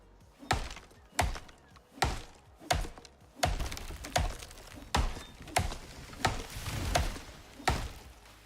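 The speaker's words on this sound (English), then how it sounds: "Let's go over here and cut down trees." Repeated woody thunks of an axe chopping down a tree in the survival game Icarus, about a dozen evenly spaced strikes, loud and close.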